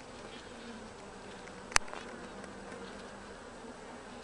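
Carniolan honeybees hum in an open hive as a steady, faint drone with a soft sustained high whine, interrupted once by a brief sharp click or tap partway through.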